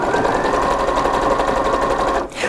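A Janome 4120QDC-T sewing machine runs continuously while stitching a garment seam, a loud steady whirring motor with fast needle ticking that stops abruptly near the end.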